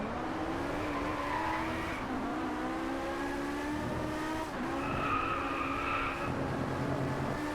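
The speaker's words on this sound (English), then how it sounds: "This car's power and handling can't keep up." A race car in the Driveclub video game roars continuously, its engine pitch climbing and shifting while tires squeal and skid in steady stretches.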